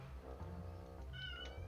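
A cat meows a few times, faint and fairly close, the drawn-out cries rising over quiet background hum with no one talking.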